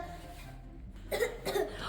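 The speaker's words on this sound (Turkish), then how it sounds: "Sonra da öksürmeye başladı." Two short, harsh coughs come in quick succession near the end, close to the listener, following a stretch of quiet room tone.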